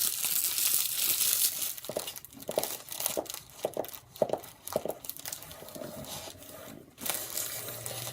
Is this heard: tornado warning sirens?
no